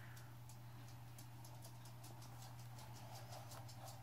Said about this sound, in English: Can y'all hear my little dog ticking around on the floor?